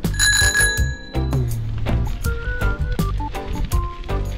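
A bicycle-style bell on a kick scooter rings several bright, ringing dings in quick succession at the start, then further lighter chimes and rattles continue close by as the scooter rolls along.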